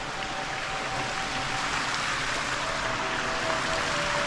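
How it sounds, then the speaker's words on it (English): Stream water spills over small cascades along a forest path near Silver Falls in Hobart, a steady broadband rush with no break, close and full, no voices. "Listen to the sound of these streams."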